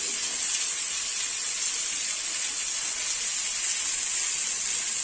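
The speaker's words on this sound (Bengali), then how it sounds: "এরপর আমি কুচনো আলুটা দিয়ে দেবো।" Chopped potato goes into a hot pan and sets off a loud, even hiss of sizzling that holds steady throughout without talking.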